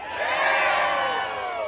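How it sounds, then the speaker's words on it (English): A street show audience cheers and whoops together, a loud, sustained crowd roar from many voices close by. "Oh, come on, that's worth cheering for, damn it."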